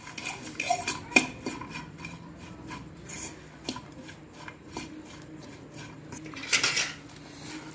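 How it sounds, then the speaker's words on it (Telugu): Sliced onions being mixed by hand with salt, pepper powder and turmeric in a bowl for an egg omelette, with soft rubbing and scraping plus a few light clinks against the bowl, close and quiet. "మిరియాల పొడి, పసుపు వేసి బాగా ఇట్లా నలిపేయాలండి"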